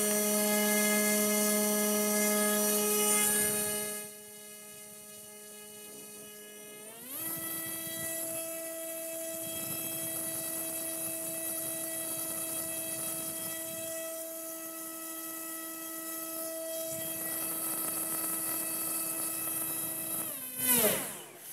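A MultiStar 2206 brushless motor spins a propeller on a thrust test bench. It gives a steady electric whine that steps up in pitch partway through, holds, then winds down, loud and close.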